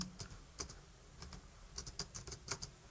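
Faint, close keystrokes on a computer keyboard come in quick irregular bursts of clicks with short pauses between them, with no talking.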